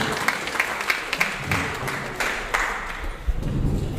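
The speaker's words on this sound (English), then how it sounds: "A round of applause for him, please." Audience at a cybersecurity meetup applauding a photographer, a moderate patter of clapping sustained for several seconds with a few sharper claps standing out in a hall.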